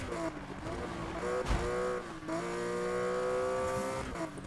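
Car engine and tyres of a Falken RSR replica in Need for Speed 2015, a loud sustained engine roar with rising revs, a brief shift dip and tyre noise, close and continuous.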